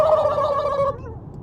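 Person imitating a turkey gobble over a walkie-talkie on a road trip, a loud warbling gargled call lasting about a second, then cut off abruptly.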